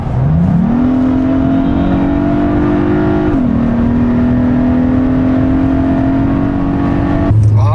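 A Hyundai Sonata N Line with a 2.5-litre turbo engine, in sport mode with stability control switched off, accelerates hard. A loud, steady engine drone climbs, dips briefly at a gear change, then keeps pulling, heard from inside the car.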